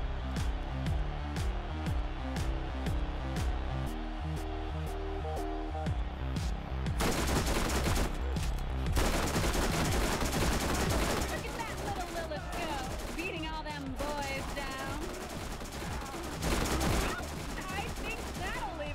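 Weapon fire from the video game Borderlands, in the Moxxi's Underdome Riot arena at The Gully, rattles in rapid regular bursts and then turns into dense, chaotic shooting and explosions, loud and continuous, while a player talks over it.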